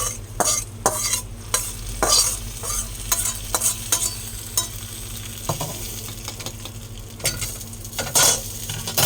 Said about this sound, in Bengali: এবারে এটা এই ফোড়নটা ডালের মধ্যে দিয়ে দেবো।